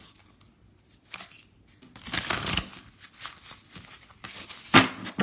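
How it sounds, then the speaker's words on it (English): Tarot cards being shuffled by hand, close up, in several bursts of riffling and sliding with short quiet gaps between them and no voices. "let's go ahead and continue to shuffle the cards."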